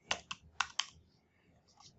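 Quiet typing on a computer keyboard: four crisp key clicks in quick succession, then a pause and a couple of fainter taps, close and isolated.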